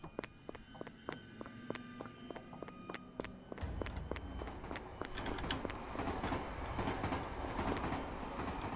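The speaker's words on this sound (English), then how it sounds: "I think there's a train just roaming down the hallways now." In a video game, a train rumbles through station hallways, rhythmic rail clacks growing nearer and louder until a heavy, continuous roar takes over.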